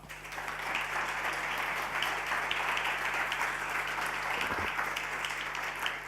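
Innovation Jam audience claps for two speakers after a corporates-and-startups talk, a sustained, even round of applause over a faint steady hum, lasting about six seconds.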